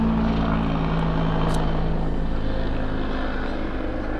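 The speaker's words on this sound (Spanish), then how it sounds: "Está pasando un helicóptero ahora mismo, por si cambia el sonido." A helicopter passes overhead outdoors, producing a loud, steady low rumble and rotor drone that fills the whole moment without any talking.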